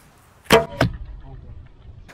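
An arrow loosed from a MyBow Symphonie hybrid bow strikes a pumpkin: a sharp, close release snap followed a fraction of a second later by a dull, solid thud, then quiet.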